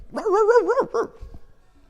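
A voice imitates a dog barking, a short run of three or four strained, yelping barks, close and loud, with no other talk.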